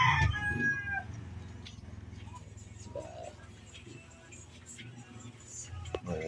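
A rooster at a chicken coop crows once, close and clear, at the very start, followed by quieter farmyard background noise and a few faint clucks and knocks.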